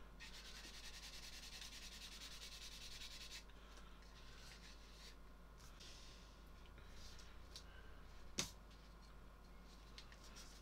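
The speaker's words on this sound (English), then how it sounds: "So I'm just going to look at the seams that could do with a little bit of sanding first." Faint, soft rasping as seams are sanded on a 1/72 scale Tamiya F-14D plastic model kit, a continuous close scrubbing that fades after a few seconds into quiet room noise with one small click.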